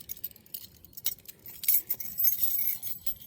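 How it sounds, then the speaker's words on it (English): A ring of keys clipped to the built-in keychain of a small travel pouch jingles and clinks in several bright, close bursts, with short metallic rattles scattered across a few seconds and no voices. "these small pouches have these built-in keychains, where I just bring my keys"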